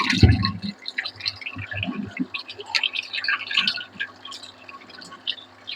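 A drinking-water bottle fills from a tap at home, a trickling, gurgling pour with uneven splashes and drips, close and fairly loud, opening with a sharper knock before the steady run of water.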